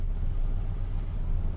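A Ferrari 330 America engine running on its first drive after sitting unused all winter, a steady low rumble that stays close and even throughout, with no talk.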